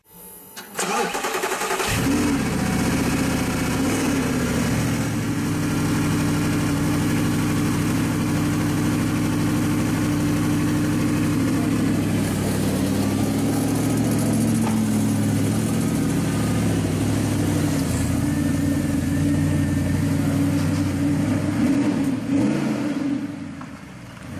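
An Audi R8 V8 engine starts up, then settles into a deep, steady idle that rumbles on for over twenty seconds with no talking.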